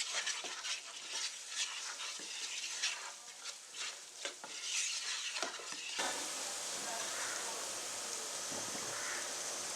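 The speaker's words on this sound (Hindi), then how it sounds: "अच्छे से इसको फ्राई करेंगे हम यहाँ" Whole black cardamom, black peppercorns and green cardamom fry in hot oil for a chicken and vegetable pulao, giving a steady close sizzle with scraping stirs that smooths into an even hiss partway through.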